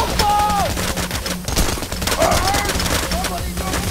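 An MP5 submachine gun rattles off in the video game Payday, with loud rapid bursts of gunfire over a busy game soundscape and brief electronic tones.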